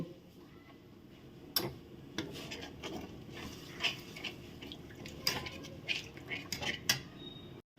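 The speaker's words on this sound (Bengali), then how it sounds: "তো আমি এখন একটুখানি জল দিয়ে দেবো এর মধ্যে, দিয়ে নেড়ে নেব" Water going into a pan of well-browned curry masala for a raw banana dhoka dalna, followed by stirring: scattered clinks of a utensil against the pan over a low, steady background, with no one talking.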